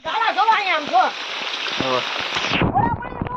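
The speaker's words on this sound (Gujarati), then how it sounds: "વરસાદ ફૂલ શરૂ થઈ ગયો છે ને ગાળા પણ" Heavy rain pours outdoors in a steady, loud, hissing wash that runs throughout, while people talk over it.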